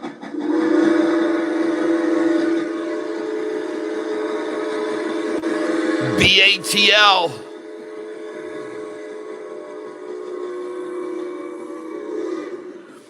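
A train rounds a bend at a distance, a steady low rumble with a sharp whistle blast in the middle, while someone talks over it.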